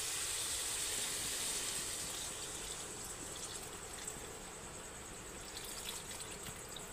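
Water is poured into a pan of papaya and spice curry, making a broad, steady rushing hiss that fades slightly as it continues, with no talking.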